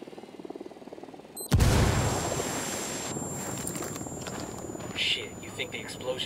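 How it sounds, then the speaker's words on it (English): An explosion in the tactical shooter Ghost Recon Wildlands, a sudden loud boom after a quiet stretch, followed by a rumbling, noisy tail with scattered sharp bursts like gunfire, with voices talking over it. "Think the explosion got their attention?"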